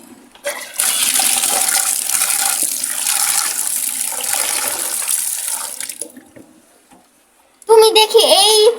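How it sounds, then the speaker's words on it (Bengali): Water runs steadily from a tap while red lentils (masoor dal) are washed, a hissing stream lasting several seconds that fades out before another short burst of water; voices talk faintly in the background. "এখন মশারির ডালটা ভালো করে ধুয়ে নিতে হবে।"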